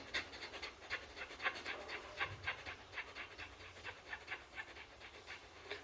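Rhythmic belly breathing with forceful abdominal pushes, a steady run of panting breaths repeating about every half second, close and moderately loud with no talk.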